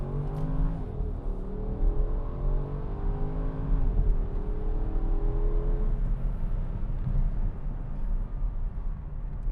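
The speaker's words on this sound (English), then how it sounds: "I'm gonna have it in sport mode here. I'm gonna give it a little gas," A 2014 Porsche Cayenne Turbo S SUV with a twin-turbo V8 pulls hard in sport mode, engine note climbing steadily through gears with rising whine, heard from inside the cabin.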